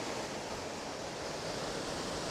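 Catrigg Force waterfall pours in a steady, dense broadband rush, a continuous close roar of falling water with no break and no voices.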